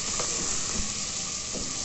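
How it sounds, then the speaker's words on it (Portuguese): Garlic and diced calabresa sausage frying in a pan, a steady close sizzle with a few soft spoon stirs and scrapes, no voices. "para o alho fritar aqui, junto com uma linguiça calabresa, cortada assim, em quadradinho"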